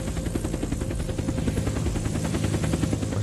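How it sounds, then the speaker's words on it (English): A helicopter lifts off in the video game Unturned, its rotor chop a steady, dense, rapid beat that holds loud and even throughout. "this is the first time the chopper's actually taken off"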